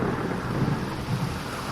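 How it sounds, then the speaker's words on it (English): Thunder in the video game Lone Wolf: The Fortress of Death, a sustained low rolling rumble with a rain- or wind-like wash, alone and fairly faint. "All at once, sound returns in a wake of thunder."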